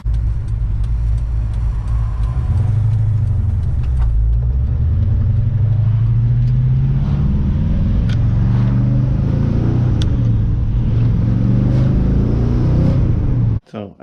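A 1962 Valiant Signet 200 with a swapped rear end drives along, its engine a steady, loud low rumble that rises and falls with revving throughout, cutting off abruptly at the end.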